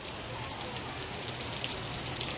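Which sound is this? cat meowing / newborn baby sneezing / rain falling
rain falling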